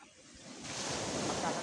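Sea waves at the seaside of Alegria, a rising rush of surf that swells and stays loud after a quieter start, mixed with wind buffeting the microphone.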